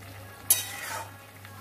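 Eggplant, yardlong beans and bitter gourd fry in hot oil while being stirred, with a steady low sizzle and two sharp scraping bursts of stirring, one early and one at the end, close up with no voices.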